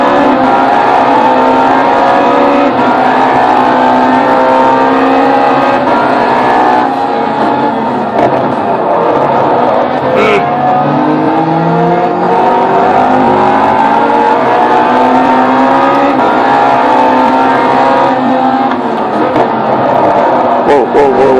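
A race car engine in a racing video game revs and accelerates continuously, a loud, droning mechanical roar with rising and falling pitch sweeps as it shifts, holding steady throughout with no pauses.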